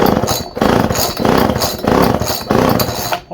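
Small Homelite chainsaw engine firing and running with the choke on, loud close rasping two-stroke bursts surging and dipping in roughly four pulses, no talk over it.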